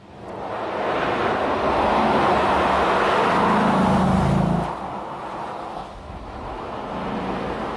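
A Dodge Charger SRT8 drives along with a broad, steady engine and road roar that swells and then drops off slightly partway through, heard close and continuous with no talking.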